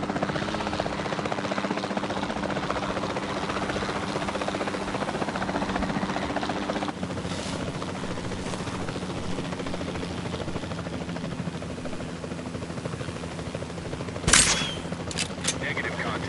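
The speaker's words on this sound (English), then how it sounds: "Then the sensible thing is to take a capture team helicopter." A capture team helicopter in Jurassic World Evolution 2 drones steadily with a rotor hum, joined late by a few sharp tranquilizer-gun shots.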